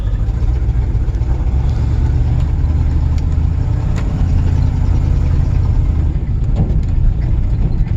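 A 1986 Chevy K30 Silverado 4x4 with a 305 engine and an Edelbrock carburetor idles loudly and steadily just after start-up, its rumble continuous and up close throughout.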